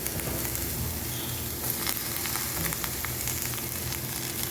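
Onions and green chilies sizzle and fry steadily in a pan for a vegetable puff filling, a dense continuous crackle close by with faint stirring clicks and no talking.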